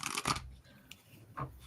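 Tarot cards being shuffled by hand, heard as two short papery riffling bursts separated by a quieter pause.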